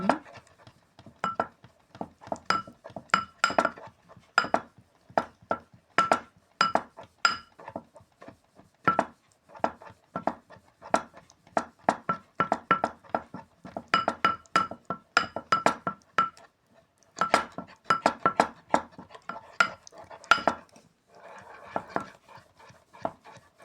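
A spoon beats mayonnaise hard in a glass bowl, producing rapid, rhythmic clinks in bursts with short pauses, close and clear with no talk.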